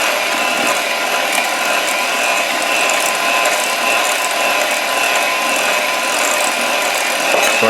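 Cookie dough for citrus crumble cookies is being mixed with egg and vanilla extract, a loud, unbroken grinding, rubbing churn that holds steady throughout with no talking.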